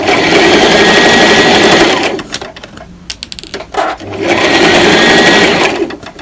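A sewing machine stitches a seam through T-shirt knit fabric, a loud steady whir running about two seconds, pausing briefly with a few short bursts, then resuming for another steady run.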